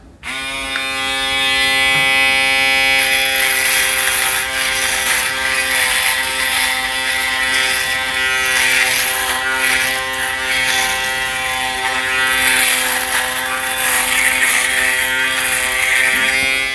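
An Aberlite Touch 2 electric head shaver runs continuously at close range, giving a loud, steady high-pitched motor buzz with slight wavering as it moves across the head.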